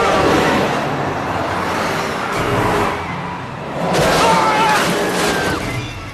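A bus barrels down a Paris street as part of a movie scene, a loud, sustained roadway rumble with engine surges that swell and fade under layered traffic noise, with a brief voice in the mix.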